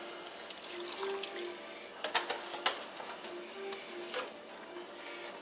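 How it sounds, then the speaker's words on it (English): Milk is poured into a pot of mashed potatoes, giving a soft, faint trickle with a few small splashes and drips over a quiet kitchen background. "Add some milk."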